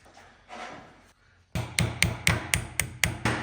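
A small hammer strikes a metal frame part while a Shovelhead motorcycle frame is being hardtailed, about eight sharp, ringing blows in a quick, fairly even rhythm after some quieter shuffling and scraping, close and loud.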